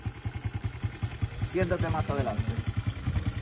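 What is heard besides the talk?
automatic motorcycle engine running with gear engaged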